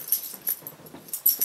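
Excited young puppies whimper and yip in short bursts indoors, close by, as they romp restlessly inside a house while snow keeps them in.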